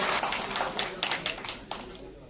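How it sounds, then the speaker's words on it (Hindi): A crowd at a political gathering claps in welcome, with a burst of quick, fairly loud clapping that thins into a few irregular, fading claps. "सारे तालियां मारिए स्वागत करो"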